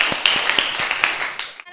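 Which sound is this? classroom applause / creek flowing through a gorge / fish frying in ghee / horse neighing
classroom applause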